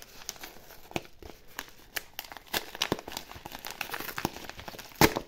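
Small parcel holding a Magic The Gathering card being torn open by hand, a run of crinkling paper and plastic with sharp rips and rustles, close and irregular, ending in a louder tear.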